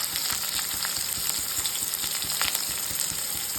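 Potatoes frying in a pan with salt and turmeric for a jackfruit curry: a loud, continuous close-up sizzle with a crackling texture and no talking.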